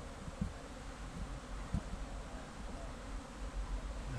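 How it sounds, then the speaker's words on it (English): Bees gathering pollen on an Epiphyllum orchid cactus outdoors make a faint, steady buzz, mixed with light rustling and a couple of soft knocks. "Here we are at the Epiphyllum and watching the bees gathering pollen."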